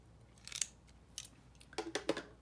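Decorative-edge Fiskars scissors snip cream card several times in quick, crisp cuts, close up and fairly quiet, with short pauses between the snips.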